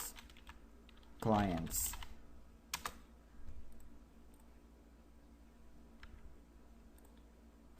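A folder name is typed on a computer keyboard in a few quick bursts of key clicks, near but faint, with a short spoken word among them.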